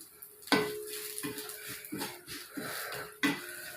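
Curry leaves being sautéed in a pan while preparing a garlic chutney, with metal utensil clinks and scraping against cookware at irregular intervals over a faint sizzle, close and moderately loud, no talking.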